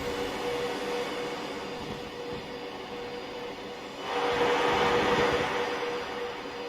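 A Class 390 Pendolino tilting train in Train Simulator Classic picks up speed, a steady rolling rumble with a faint whine that swells louder about two-thirds through, no voices.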